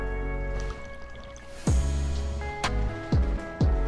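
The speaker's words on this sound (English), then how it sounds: "We're gonna pour all this water into this cup, and it's gonna be 100 millimeters." Water is poured into a cup to about 100 milliliters, heard as close splashes and drips over a low background, with a few sharper sloshing pours toward the end and no talking.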